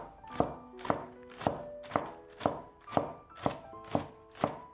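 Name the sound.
chopping green onions with knife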